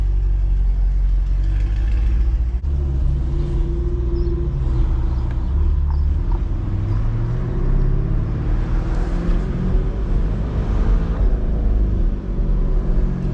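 A 2023 Corvette Stingray driven in Z mode through Nashville city streets, its engine giving a loud, steady, deep rumble that swells slightly as it pulls, close and continuous with no talking.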